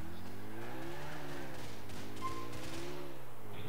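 Car sliding sideways in the racing-style driving of GTA IV multiplayer, with a steady engine drone shifting in pitch as the tires scrub, close and moderately loud with no talking.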